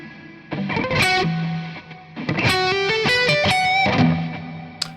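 An electric guitar played through a PolyChrome DSP HyperRig with reverb switched on, plucked notes and chords ringing out with lush decaying tails, alone and close.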